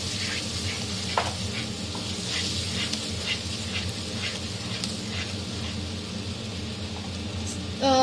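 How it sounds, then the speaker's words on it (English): Tomato puree sizzles in a pan for paneer do pyaza while it is stirred, giving a constant soft crackle with scraping strokes and a brief tonal beep near the end. "we need to constantly stir that thing so that each of the mixture is properly blended into one another"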